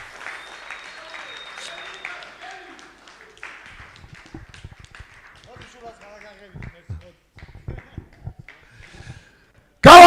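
Audience applause at a ceremonial weigh-in for bare-knuckle fighters, starting as scattered low clapping among crowd noise and ending in a brief, loud burst.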